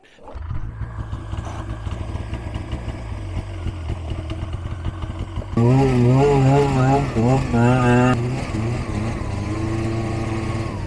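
A vehicle engine cranks over and settles into a loud, steady running rumble, then revs up with rising and falling pitch partway through, staying close and continuous throughout.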